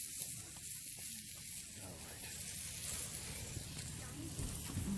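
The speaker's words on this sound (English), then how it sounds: "we're just frying with some bacon" A soft, steady crackling sizzle of bacon frying in a pan, faint and continuous throughout.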